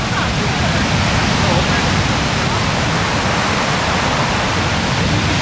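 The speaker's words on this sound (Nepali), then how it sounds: "यस्तो मजाले ड्यामबाट पानी आउँदैछ" Water rushing out of a dam near Hardy, Arkansas, a loud, unbroken roaring torrent that fills the whole scene from start to finish at close range.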